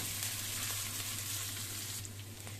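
Ginger and garlic sizzling in cooking oil in a pan for chicken gizzard adobo, a steady close frying hiss running throughout with no talking.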